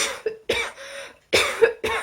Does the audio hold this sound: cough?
yes